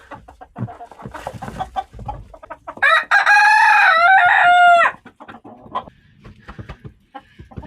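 Silkie hens in a snowy April coop, softly clucking, then one loud, drawn-out squawking call lasting about two seconds before the quieter clucks resume.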